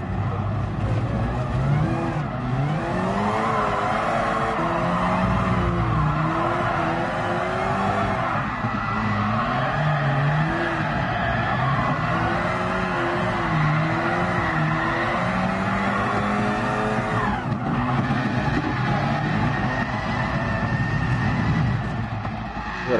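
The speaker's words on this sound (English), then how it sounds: "That car sound crazy." A race car in GT Sport screams through a long stretch of high revs, with shifting engine pitch and tire squeal, loud and steady throughout.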